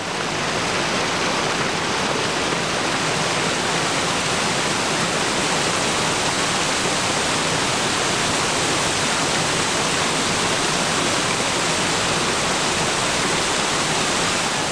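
Hogenakkal waterfall in India roars as a loud, dense, unbroken rush of falling water, steady and close throughout with no other sounds standing out.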